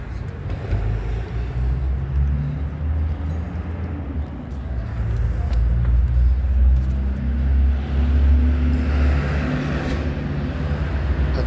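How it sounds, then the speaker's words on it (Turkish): Steady car traffic rumbles along a roadside in Ankara, a continuous loud wash of engine and tire noise that swells slightly as vehicles pass close by. "Arkadaşlar yol kenarı olduğu için biraz araba sesleri çok gelebilir."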